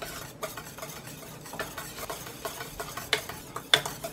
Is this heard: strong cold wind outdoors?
no